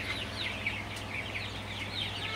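Sonali chickens, 35 days old, fill a hot shed with fans running, their busy overlapping chirps and clucks steady over a constant low fan hum, no voices.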